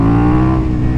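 A KTM 1290 Super Duke R motorcycle accelerates hard into a power wheelie, its engine roaring loud and close in a thick, continuous rumble with layered harmonics that holds strong for the whole moment.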